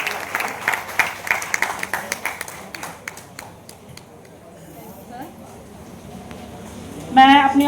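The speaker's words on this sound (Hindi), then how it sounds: "बच्चों जोरदार तालियों से सर का स्वागत करेंगे।" Children at a school gathering clap to welcome a guest: a burst of lively applause fades over a few seconds into quiet room ambience before a voice begins speaking at the end.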